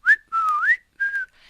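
A man whistles a bright, wavering tune alone in three short phrases, the middle one long and gliding, the last fading into quiet.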